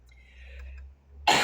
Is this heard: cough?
yes